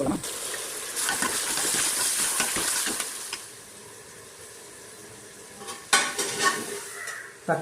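Tomatoes sauté in a pan with loud, busy sizzling and stirring at first. The frying then quiets to a low hiss before a few clattering scrapes of a utensil against the pan.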